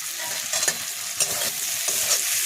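Spices stir-fried with salt in a pan for a kochur loti (taro stolon) and prawn dish, giving a steady close sizzle with a few scraping stir strokes and no talking.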